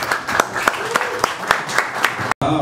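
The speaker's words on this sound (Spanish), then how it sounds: "Fuerte el aplauso para Diana Navarro." Applause at a celebration against homophobia comes as sparse, rhythmic claps at a steady beat, mixed with some voices, before a brief cut near the end.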